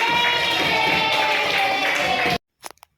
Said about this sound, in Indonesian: Tepuk tangan buat kelompok satu.